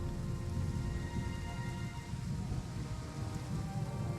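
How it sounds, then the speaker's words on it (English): Steady rain falls in a strategy video game battle, a constant even patter and hiss that continues without break and has no voices over it. "They knew it was going to rain."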